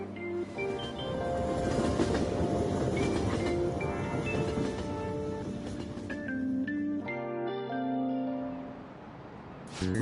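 A train riding along the rails in a video game: a steady, dense rumble and clatter of wheels that runs for the whole ten seconds, with tonal squeals and shifting pitches layered on top and no talking.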